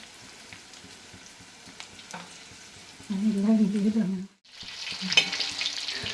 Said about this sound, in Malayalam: അപ്പോൾ ചിക്കൻ നമ്മൾ വറുത്ത് ആയിട്ടുണ്ട്